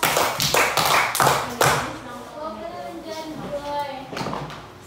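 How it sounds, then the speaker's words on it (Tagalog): A classroom group of pupils gives a round of five sharp claps for group 2, loud and rhythmic at the start, followed by a voice and quieter classroom chatter. "atong tagaan og 5 ka palakpak ang group 2"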